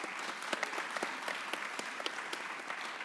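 Applause from the audience at a legislative hearing right after testimony, a steady wash of many hands clapping with a few sharper individual claps standing out, fairly even in level throughout.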